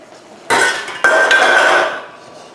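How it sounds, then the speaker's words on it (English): Whisk scraping and clinking against the metal pot of caramelized sugar with warm cream, two loud bursts of close, bright rattling, the second lasting about a second, with no talk. "I'm just trying to get all the candy body off of the whisk."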